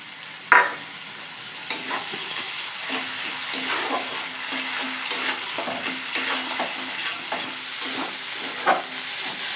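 Nut paste and spices fry in a pan while a spoon stirs and scrapes through them, a continuous sizzling hiss marked by repeated scraping strokes and one sharp knock near the start; close, with no talk.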